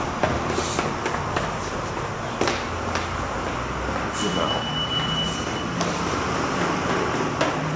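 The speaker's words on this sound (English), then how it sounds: "This is where I check to see when the next L train is coming." New York City subway L train, its rumble and rattling wheels filling the station along with scattered clicks and a faint squeal, and a few voices murmuring in the background.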